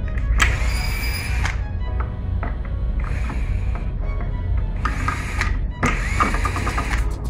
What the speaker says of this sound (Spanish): vamos a quitar los tornillos